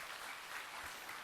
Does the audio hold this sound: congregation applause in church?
yes